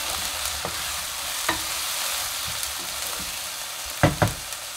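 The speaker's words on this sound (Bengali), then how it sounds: "আমি পেঁয়াজ আদা রসুনটা এক মিনিট ধরে ভেজে নিয়েছি" Onion, ginger and garlic frying in a pan make a continuous close sizzle, broken by a few sharp scrapes and clinks of a spatula stirring.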